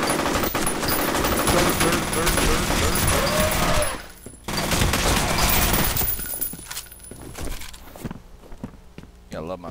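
Loud, rapid automatic gunfire from the FEAR video game rattles in dense bursts, pauses briefly, then resumes before thinning into sparser shots.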